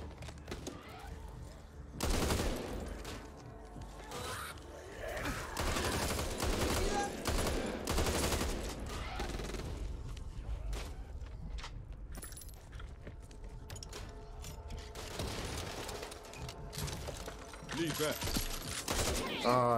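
A scoped gun fires repeatedly in the zombie shooter Back 4 Blood, bursts of loud shots in clusters across about twenty seconds, with players talking between volleys.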